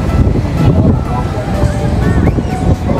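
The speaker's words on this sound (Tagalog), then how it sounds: "Ayan, lakas ng hangin." Strong wind buffets the microphone in a steady, loud roar outdoors during travel, with faint voices nearby under the rushing noise.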